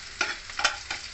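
Vegetable mixture frying in a pan for moong dal mix veg idli, a steady soft sizzle broken by three brief scraping stirs, close and fairly quiet.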